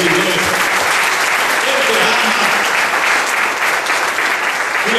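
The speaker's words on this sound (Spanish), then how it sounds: "Denle un aplauso a Cristo" A church congregation claps loudly and continuously during a Spanish-language sermon, the applause given in praise of Christ; broad, sustained clapping throughout, with a voice faintly present beneath it.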